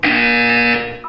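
A Portal 2 buzzer rings as one loud, sustained electronic tone for about a second, then cuts off with a short blip after it.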